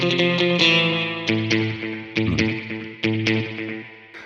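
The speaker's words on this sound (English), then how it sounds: "The serial 2-tap delay is just a slapback echo" Electric guitar through a Kemper Profiler with a serial two-tap delay set as slapback echo: a series of picked chords and notes, each attack followed by quick short repeats and a long ringing decay, with no voices.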